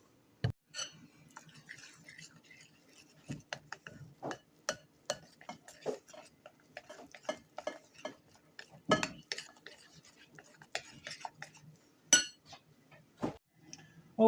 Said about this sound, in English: Stir that up till it's consistent.